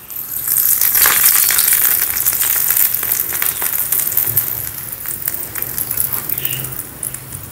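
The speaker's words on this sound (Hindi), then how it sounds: "इसलिए 3-4 लाल मिर्च, इसका तड़का लगाते हैं।" Hot oil tempering with red chilies sizzles and crackles steadily with small pops, close and fairly loud, with no talking.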